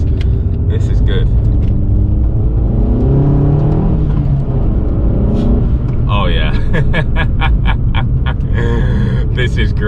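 Abarth 500 hatchback with a Stage 1 tune being driven on a narrow road, its engine droning loud and close with rising revs and gear changes, while someone briefly speaks over it.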